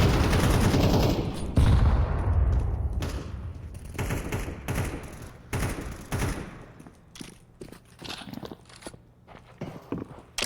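Rapid bursts of gunfire in a shooter video game, dense and loud at first, then thinning into scattered shots and footsteps, with no talk over it.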